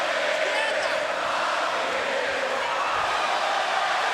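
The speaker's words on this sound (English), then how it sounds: "And listen to the crowd." Loud, dense boxing arena crowd roaring and cheering continuously during the Pacquiao vs Marquez fight, with no break in the wash of noise.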